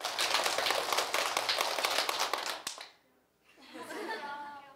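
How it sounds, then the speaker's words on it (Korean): Classroom of students clapping rapidly in a quick burst of roughly ten claps, loud and close, stopping abruptly, followed by a brief pause and then voices chattering. "자, 박수 10번 치겠어요"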